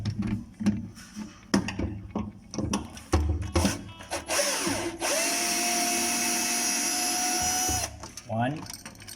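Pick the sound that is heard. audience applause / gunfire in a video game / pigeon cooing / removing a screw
removing a screw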